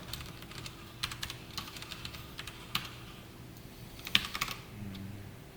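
Typing on a computer keyboard while writing a Java text-board program, with quiet, close, irregular key clicks and a few louder strokes over a faint steady room hum.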